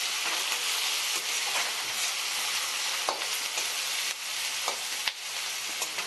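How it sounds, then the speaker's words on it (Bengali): Chopped onion and whole spices frying in a pan for a Bengali banana-flower and prawn ghonto, giving a steady loud sizzle with occasional stirring clicks and scrapes throughout. "ফোড়নের সব মশলা আর পেঁয়াজ কুচি আমি ভালো করে 2 মিনিট ধরে ভেজে নেব।"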